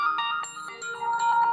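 Mobile phone ringtone playing a short electronic melody of bright, clear tones, alone and close.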